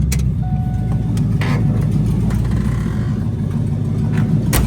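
A car engine runs steadily nearby, a low even rumble holding at a constant pitch without revving, with no talking.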